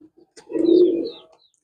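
A single soft, low domestic pigeon coo swells and fades close by, with faint scattered chirps around it.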